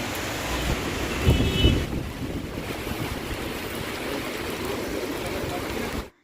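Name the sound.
heavy rain with thunder at a bazaar in Andaman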